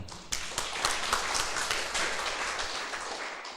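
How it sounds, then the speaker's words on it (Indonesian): An audience claps in applause at a church sermon, a fairly faint, sustained patter of many hands with a few sharper claps at the start, tapering slightly toward the end. "Tepuk tangan untuk Tuhan."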